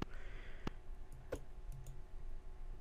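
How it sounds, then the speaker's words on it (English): Sharp, isolated clicks of a computer mouse that double-clicks on single presses, a few crisp taps spaced irregularly over a quiet background. "it is double-clicking whenever I'm single-clicking"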